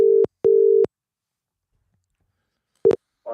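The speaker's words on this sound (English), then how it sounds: "I'm going to see if Gary's still awake, because he did try and phone me" UK-style telephone ringing tone heard down the line while phoning a friend late at night during a live phone-in show: a clear double burst, a long pause, then the next double starting, with a brief voice at the very end.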